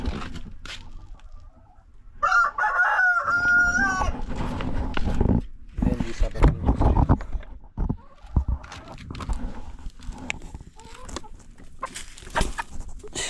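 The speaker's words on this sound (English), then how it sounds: "So I'm gonna drop a few chickens down here." Farm chickens cluck and squawk in short bursts close by, mixed with rustling and handling noises, while a person speaks briefly.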